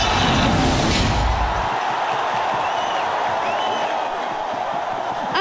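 A packed crowd at a free Pacquiao-Marquez 4 fight screening in San Andres Sports Complex cheers and applauds in a loud, continuous roar that lasts the whole stretch.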